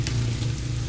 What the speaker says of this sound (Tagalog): Same pan, gisa na ng bawang.